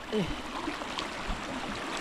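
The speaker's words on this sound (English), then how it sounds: "The shooting of water here, it's on another level." Strong water gushing out forcefully outdoors at a sand-collection site, a steady loud rushing wash with brief gurgles, heard alone.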